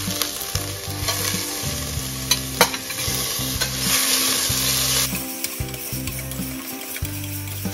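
Shrimp and garlic sautéing in a Saladmaster pan, a bright steady sizzle with repeated scraping and clicking stir strokes from a utensil, close and without talk.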